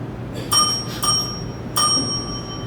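Three separate metallic bell dings, each clear and ringing with bright overtones, struck at uneven intervals to time a student's speech at a speaking competition. No talk, only faint room noise underneath.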